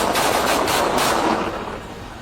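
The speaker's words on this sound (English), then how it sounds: "3 officers discharged their weapons" Several police officers discharging their handguns at an armed suspect, a dense burst of overlapping shots that blurs into one loud roar before fading out, with no talk.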